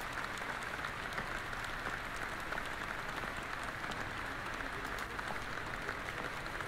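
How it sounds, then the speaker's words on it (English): Applause rises in an auditorium in the video game Detention, a steady, even wash of many hands clapping, faint and continuous and heard alone. "Do they applaud her for turning the book club?"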